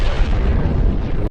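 A grenade blast plays back from high-speed footage as one loud, close, sustained rumbling boom that cuts off abruptly at the end, with no voices over it.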